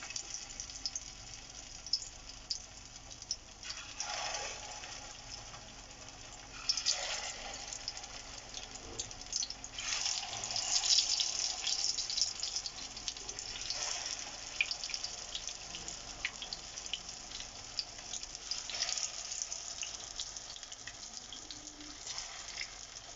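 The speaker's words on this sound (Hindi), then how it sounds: "अब हम इसमें ये कबाब फ्राई कर लेंगे" Potato (aloo) kebabs frying in hot oil over low heat, giving a continuous, fairly quiet crackling hiss that swells several times, with no talking.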